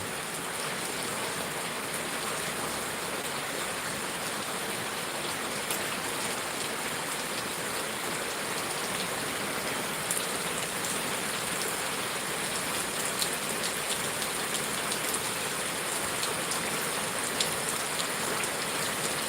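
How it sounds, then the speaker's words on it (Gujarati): Heavy monsoon rain in a village pours steadily as a dense, even hiss of drops drumming on surfaces, loud and constant throughout with no voices. "અત્યારે એટલો વરસાદ છે ને એની કોઈ સીમા નથી"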